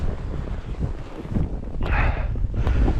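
Gusty, frosty wind on an outdoor winter fishing trip buffets the microphone with a steady low rumble, swelling louder toward the end.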